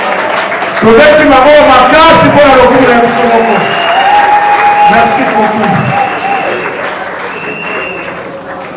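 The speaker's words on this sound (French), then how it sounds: "Applaudissez une fois de plus encore." An audience at an awards ceremony for comedians, with trophies and merit diplomas presented, breaks into loud, sustained applause and cheering while a voice speaks over the clapping.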